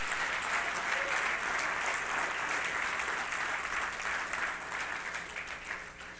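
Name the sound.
church congregation applauding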